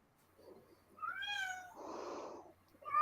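A cat meows twice in close succession, a clear rising-falling cry followed by a broader, harsher one, with the start of another at the end; fairly near, with a quiet background and no talk.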